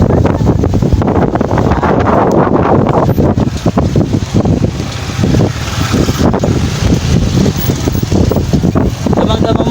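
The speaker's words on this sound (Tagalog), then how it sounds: "Damang-dama mo ang isang hangin dito sa may malapit sa dagat" Strong wind by the sea buffets the microphone in a loud, continuous rumble with gusty surges throughout, drowning out most other detail.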